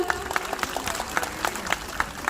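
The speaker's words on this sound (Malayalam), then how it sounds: "നല്ലൊരു കൈയടി കൊടുത്താലോ" Audience clapping for a children's Thiruvathira dance at an anti-drug event in Uduma, Kasargod, heard as scattered, moderately quiet applause with distinct sharp claps over a crowd murmur.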